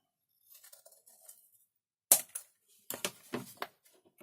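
Scissors cut through the sealed end of a toothpaste tube being reused as a grease applicator, a few faint snips followed by sharper, closer crisp cuts in quick succession.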